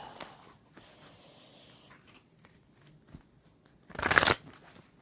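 Quiet rustling and faint handling noises, then a short, loud burst of riffling cards close by, like a deck being shuffled once.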